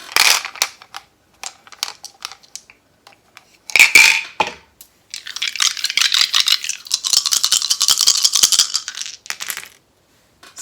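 Dice shaken and rattled in a hand, then tumbling and clattering on a hard surface, a burst of rattling followed by a longer run of clicking rolls, close and fairly loud with no talk.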